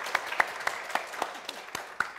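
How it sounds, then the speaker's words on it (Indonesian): Scattered claps of applause, light and uneven, fading in and out over a soft background. "Sekali lagi tepuk tangan dong buat Angga dan Shenina."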